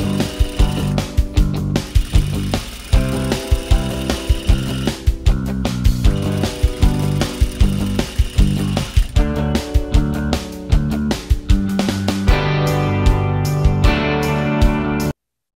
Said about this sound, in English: And then the regular straight stitch.